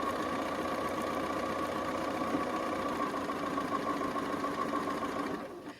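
A sewing machine stitches a seam on a double wedding ring quilt, with a steady fast mechanical whir that runs close and unbroken for several seconds before slowing and trailing off at the end.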